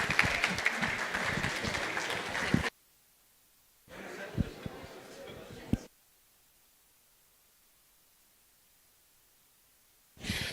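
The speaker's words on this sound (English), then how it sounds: "warm applause for Ms." Applause from a meetup audience for a speaker on blockchain and AI: a burst of clapping, a pause, a second shorter burst, then a long silence before a brief final flurry.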